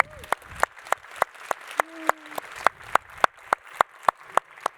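Rhythmic clapping at an Accenture business talk on AI: crisp, regularly spaced claps in a steady beat, with a brief voice sounding over them partway through.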